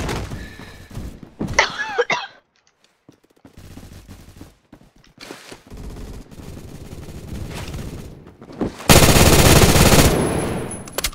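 Gunfire from the online shooter game Phantom Forces: scattered bursts and thuds, then a loud sustained automatic volley near the end, close and harsh.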